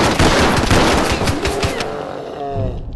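Sustained automatic gunfire in the shooter game Escape From Tarkov, a loud rapid burst of repeated shots that fills the clip and tails off with echo.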